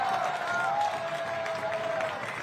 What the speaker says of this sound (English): And a wry cheer from the crowd for North Carolina fans finally getting a call.